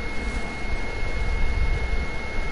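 Helicopter in a video game drones nearby with a steady, loud engine rumble and whine, heard alone without talk.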